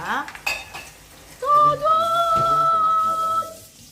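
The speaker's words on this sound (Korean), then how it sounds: "옆에는 설거지 그냥 설거지 소리니까 무시해 주세요" Dishes clink and scrape close by while a steady tone rings through the middle, like washing up at a sink.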